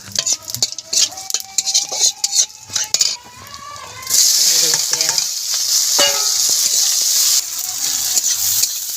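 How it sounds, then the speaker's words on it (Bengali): Cumin, chilli and bay leaf frying in oil in a wok: first clinks and taps of utensils and spices going in, then a loud burst of sizzling that settles into a steady close hiss with occasional stirring. "কড়াইতে দিয়ে দেবো তেল, দেব জিরা, লঙ্কা, তেজপাতা"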